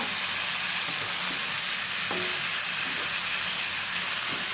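Pork belly with holy basil leaves sizzles steadily in a hot pan while being stir-fried for a Thai kaphrao dish, giving a continuous close hiss with faint clinks of stirring and no talk.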